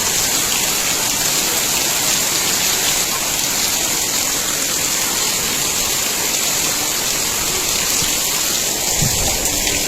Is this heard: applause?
no